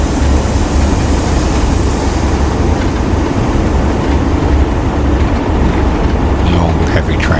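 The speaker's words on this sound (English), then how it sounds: "Long, heavy train." A long, heavy train in Train Sim World 3 rumbles continuously, a loud deep roar with rolling wheel noise on the rails, steady throughout with a few faint high clicks near the end.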